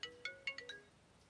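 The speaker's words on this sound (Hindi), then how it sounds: "अरे भाई गोले का फोन है" A mobile phone ringtone in a Hindi comedy film scene plays a quick run of bright, melodic electronic notes in short bursts, then stops within about a second, alone and fairly soft.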